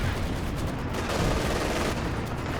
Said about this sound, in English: There's this barrage coming in there as well.